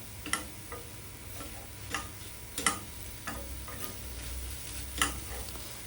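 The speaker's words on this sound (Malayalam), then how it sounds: "സ്ലോ ഫ്ലെയിമിൽ വെച്ചിട്ട് വേണം മിക്സ് ചെയ്യാൻ." Raw banana thoran stirred in a pan over a slow flame, with faint sizzling broken by a series of light, irregular scraping taps of the spoon against the pan.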